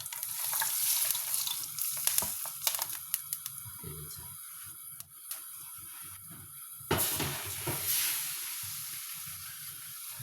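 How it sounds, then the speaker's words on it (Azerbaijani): Hot oil poured over shredded carrots for a Korean-style carrot salad crackles and sizzles in sharp bursts, fading and then flaring again with a second loud rush, close and without talk. "Və yağımız da artıq dağ oldu. Və gətirib tökürük markovumuzun üzərinə."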